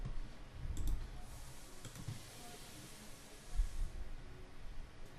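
A computer mouse clicks a few times at close range, with a double click near the start and another pair of clicks later, over faint room hiss, while a zip file is extracted in Windows.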